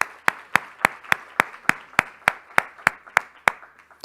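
Sparse, evenly spaced handclaps ring out at a summit on conscious leadership and ethics after the final panel, about a dozen sharp claps in a steady rhythm that sound like a single nearby clapper or a thin, small round of applause.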